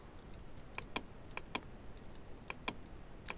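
Keys pressed on a computer keyboard for a Photoshop shortcut, several light, sharp clicks spaced unevenly over a quiet background hiss, with no talking.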